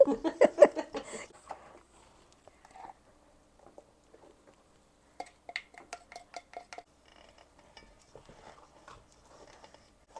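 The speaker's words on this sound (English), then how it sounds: "This is the hardest part, is mixing it. Yeah, because it's quite thick." Thick fruit cake batter is worked in a bowl, with utensil scrapes and clinks clustered at the start and returning in scattered bursts, separated by quieter pauses.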